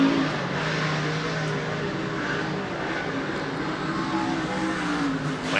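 Dirt track race cars roll onto the racing surface at Volusia Speedway for a Super DIRTcar Series qualifying session, a dense, steady engine roar with no pause.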